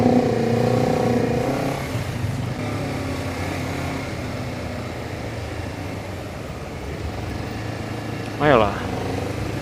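A Honda CBR250RR motorcycle ridden at low speed while filtering through traffic, its engine humming steadily and close beneath wind noise, with a brief rising rev near the end and the rider talking over it.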